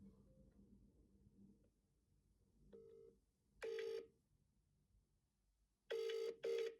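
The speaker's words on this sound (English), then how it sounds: "Let me try call her again." Touch-tone dialing of a telephone call, heard as a few short DTMF key beeps: one faint tone, then a single clear tone, then a quick pair of loud tones near the end, over a quiet room.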